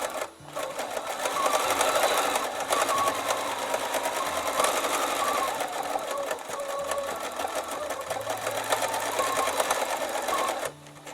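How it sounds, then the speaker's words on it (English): A Bernina 880 sewing machine running with the Bernina Stitch Regulator, a steady, fast mechanical stitching hum that carries on for several seconds, close and even, then stops abruptly near the end. "this is the Bernina Stitch Regulator on the 880 Bernina sewing machine"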